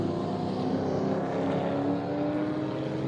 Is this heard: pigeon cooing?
no